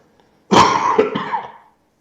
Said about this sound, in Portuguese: Quer limpar a garganta, pode tossir.